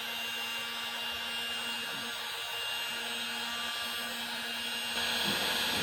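A Milwaukee M18 cordless heat gun blows hot air to shrink tubing, a steady close whirring hiss with a faint motor hum, holding level throughout and rising slightly at the end.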